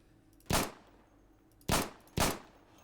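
Three sharp sidearm pistol shots in the game Insurgency, fired close by as a single shot and then two more in quick succession, each with a brief echoing decay and no talking.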